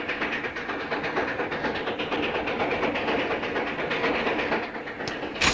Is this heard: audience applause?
no